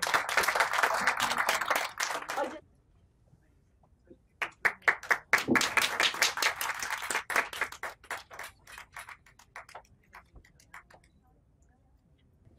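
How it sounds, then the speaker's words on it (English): Audience applause at an award ceremony held at the House of Lords, UK: a burst of loud clapping, a brief pause, then a second extended round of clapping that thins into scattered claps as it fades. "let's give a big, big round of applause"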